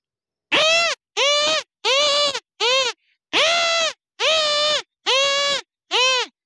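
A human voice imitates the call of a hornbill with eight loud, nasal, honking bursts in a steady rhythm, each about half a second long with short gaps between.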